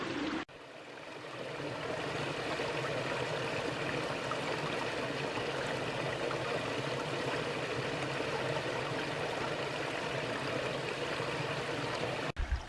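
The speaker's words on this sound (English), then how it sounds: "Love the way the water meanders and bends so quickly back and forth through the landscape here." Forest stream in Bankhead National Forest, Alabama, water rushing and babbling steadily over rocks, a broad continuous wash heard close and alone.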